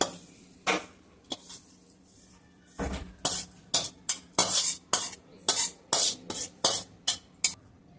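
Freshly roasted masala with coconut is scraped out of a pan into a bowl: a series of sharp, close metallic scrapes and clinks that quicken into a rapid rhythm of about a dozen strokes.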